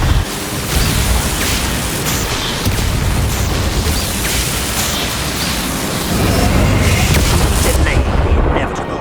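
Explosion from the Bombarda spell in the Hogwarts Legacy video game: loud, continuous rumbling blasts and booms filling a dense combat soundscape, with a voice heard amid the fighting.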